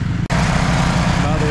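A CFMOTO CForce 600 ATV running in low gear on stock clutching and 28-inch Maxxis Zilla tires, pulling a bush hog mower through a field, gives a loud, steady close-range engine drone with one brief dropout near the start.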